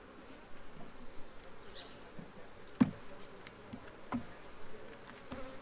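Honey bees buzzing around hive frames at a new apiary location, a soft continuous drone of many insects with a few louder close passes and faint handling knocks.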